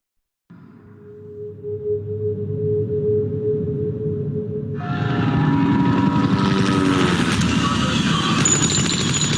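Engines of a very large airplane, heard from a played film, a steady heavy drone that swells into a louder, broader roar partway through, continuous and fairly loud.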